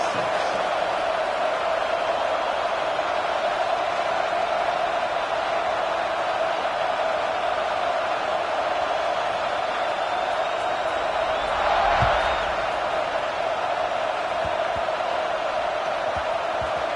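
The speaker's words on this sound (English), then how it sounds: "this crowd is buzzing after that last score" A college football stadium crowd at an Ohio State vs USC game keeps up a steady, distant buzzing roar, swelling briefly near the end as cheering rises.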